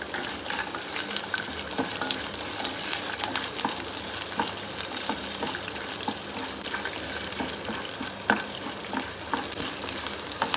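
Green chillies, dried red chillies and cashews frying in oil for semiya daddojanam, a steady close sizzle with scattered pops and spoon stirring throughout, with no voices.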